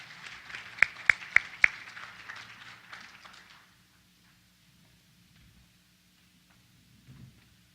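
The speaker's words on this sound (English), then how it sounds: "If you could all please join me in giving them one more round of applause," Audience applause for panel speakers at an energy summit, a moderate round of clapping with a few sharp louder claps, fading out after about four seconds into quiet room tone with faint murmurs.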